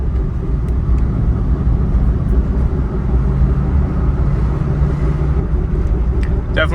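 A 1998 Pontiac Trans Am engine pulls hard in second gear, a loud, steady low rumble sustained throughout with no break, heard close with some wind and road noise.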